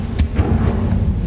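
A Confringo fire spell cast in Hogwarts Legacy lands as a quick, punchy burst followed by a second softer thud, short and close over a low rumbling background.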